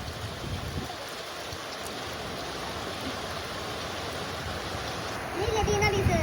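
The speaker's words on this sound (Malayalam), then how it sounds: "നല്ല മഴ" Steady rain pours down in a dense, even hiss, with a faint voice near the end.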